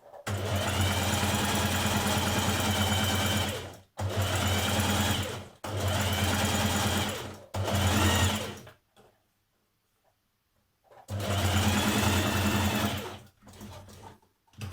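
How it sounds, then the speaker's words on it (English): A domestic sewing machine runs several long, steady bursts as it stitches a line alongside another on a Simplicity 2917 dress, with brief pauses between runs and a final shorter burst; close, loud and alone. "do another line of stitching alongside that one"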